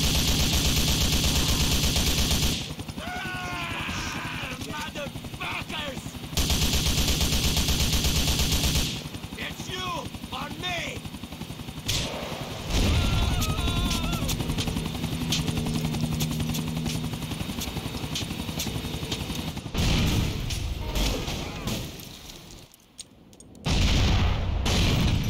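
Gunfire and explosions rage in GTA 4, bursts of shots mixed with a helicopter's steady drone and booms, loud and continuous across the scene, with brief speech in between.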